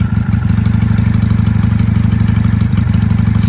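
A 1995 Honda Shadow VLX 600 V-twin, not yet warmed up, idles close by with a steady, loud, lumpy throb and a rapid even pulse, running alone without talk.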